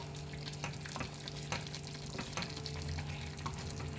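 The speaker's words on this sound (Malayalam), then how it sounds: "അതിനുശേഷം ഇതൊന്നും കൂടെ ഒന്ന് ഇളക്കി യോജിപ്പിക്കാം." Pepper chicken sizzles and fries in a pan while being stirred, a steady close crackle broken by several sharp scraping strokes of the spoon.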